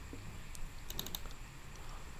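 Keystrokes on a computer keyboard, a short cluster of quiet, crisp clicks over faint room hum, isolated and without speech.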